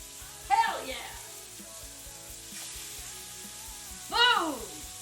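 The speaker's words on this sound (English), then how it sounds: "Listen to that sizzle!" Steaks searing in a hot pan give a steady broadband sizzle throughout, with a voice breaking in loudly twice over the frying.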